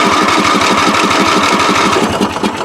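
A free riding mower's engine cranks hard and loud in a fast, steady mechanical chatter, sputtering as it tries to catch and start, close up with no voices.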